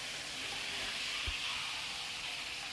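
Chinese-style sour fish (pla som) frying in hot oil, a steady broadband sizzle and hiss holding at an even level throughout, with one brief low thump partway through and no talking.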